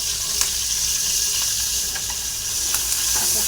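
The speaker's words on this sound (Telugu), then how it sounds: "ఆవాలు కొంచెం చిటపటలాడిన తర్వాత ఇందులో నేను కొత్తిమీర," Curry leaves and coriander sizzling in hot oil after mustard seeds crackle in a tempering pan, a loud, bright, steady hiss with a few sharp pops and spatters close to the mic.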